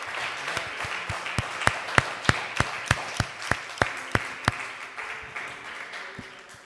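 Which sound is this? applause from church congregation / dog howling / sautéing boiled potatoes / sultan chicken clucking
applause from church congregation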